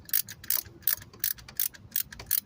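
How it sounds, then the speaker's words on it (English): A ratchet wrench clicks in steady, evenly spaced bursts, about seven strokes, while unthreading a starter bolt on a VW 2.0 engine, close and fairly quiet. "So got a little ratchet wrench situation here."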